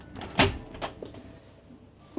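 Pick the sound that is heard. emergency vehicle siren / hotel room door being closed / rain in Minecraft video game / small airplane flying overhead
hotel room door being closed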